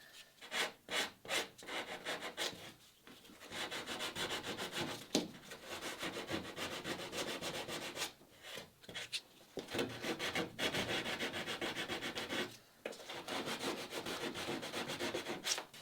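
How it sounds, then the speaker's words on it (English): Hand sanding the corners of a wooden boat frame with strokes of abrasive on wood, rhythmic scratchy rubbing close up, quick separate strokes at first and then longer sustained passes broken by brief pauses, with no talking. "Try and fill in here, try and get that sort of sanded out smooth."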